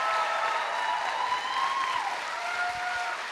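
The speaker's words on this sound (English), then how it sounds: "let's give a bow and clap for these wonderful people" Audience clapping for performers at a live RoundHouse 2016 show, a steady broadband wash of many hands held at even loudness for a few seconds, with faint tonal sounds running beneath.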